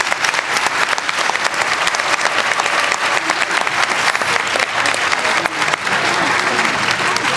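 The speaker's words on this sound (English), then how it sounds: "Applause for our respondents and entrepreneurs." An audience at a live conference session claps for presenting entrepreneurs, with sustained loud applause filling the room for several seconds and a faint murmur of voices underneath.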